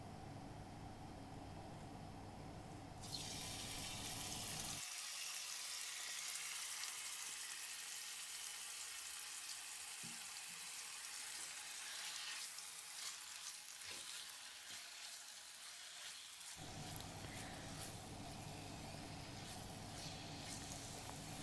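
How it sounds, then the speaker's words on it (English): Chicken sizzles and crackles in a frying pan with a little oil, a constant loud frying hiss with a low background hum at the start and end. "Now I'll cook this chicken in a frying pan by adding 2 spoons of oil."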